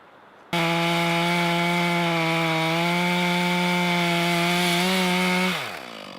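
Chainsaw cutting a huge log into sections for firewood: the saw snaps to a loud, steady high whine close by, holds for about five seconds while bogging slightly, then drops away as the engine winds down.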